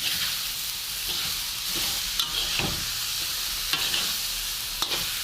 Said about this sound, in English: We toss the rice just to heat it through.